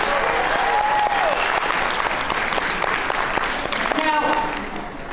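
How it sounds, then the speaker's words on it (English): An audience at a town hall meeting on Latinos and education in New Mexico claps for the facilitators, a dense, loud round of applause that holds steady and then tapers off, with faint voices mixed in. "Please, a round of applause for those facilitators."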